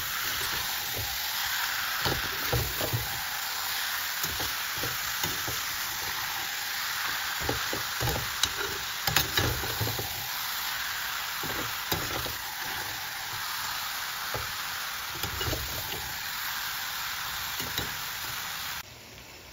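Chicken keema for momo filling fries in a pan with cumin and coriander powder, garam masala and momo masala. A steady, loud sizzle runs throughout, with scraping and knocking from stirring scattered across it.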